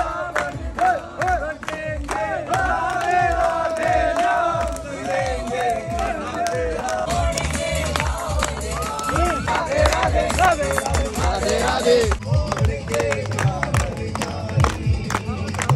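A large crowd of pilgrims on the Govardhan parikrama near Mathura chants and shouts together, a loud continuous mass of voices with rhythmic pulses and bursts of cheering throughout.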